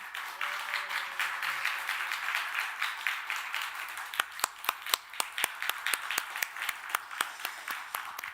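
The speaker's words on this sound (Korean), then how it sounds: "뜨겁게 박수해 주시면 감사하겠습니다" A church congregation claps during a Sunday service cake-cutting. Steady, fairly distant applause gives way to a thinner stretch of sharp, separate claps at an even beat, and no one speaks.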